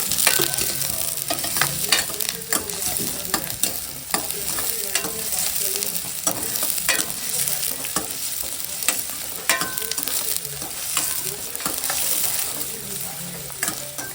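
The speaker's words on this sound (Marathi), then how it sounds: "टाकूया कांदो कांदा परतून घ्यावा व्यवस्थित" Chopped onion sautéing in a pan for a Konkan wild-vegetable dish: a steady, close sizzle of frying broken by repeated scrapes and clatters of a spoon stirring, with no talking.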